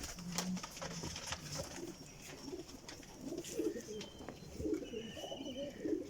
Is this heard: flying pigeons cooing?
yes